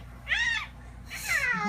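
A cat gives two clear, close meows about a second apart, each a rising then falling mew, over quiet background hum.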